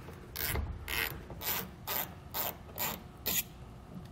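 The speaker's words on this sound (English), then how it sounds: "with a T15 Torx bit, we're going to remove the two pieces of hardware here from underneath this trim panel" A ratchet with a T15 Torx bit loosens trim panel hardware on a 2012 Ram 1500, sounding as seven evenly spaced, close, clicking bursts of ratcheting with brief pauses between them.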